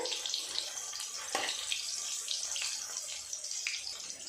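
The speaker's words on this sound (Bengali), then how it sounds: "দু তিন মিনিট সময় নিয়ে উল্টে পাল্টে মাছগুলোকে ভেজে নেব" Pieces of pangas fish frying in oil and being turned, producing a continuous bright hissing sizzle with scattered small pops, close and moderately loud.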